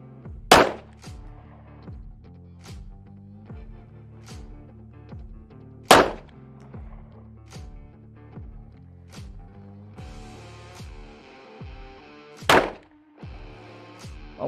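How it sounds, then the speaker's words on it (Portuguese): Five 9 mm pistol shots strike a target one at a time, each a sharp, loud crack with long gaps between, over a steady pulsing music bed. "Nós temos cinco munições nesse carregador, pistola calibre 9 mm"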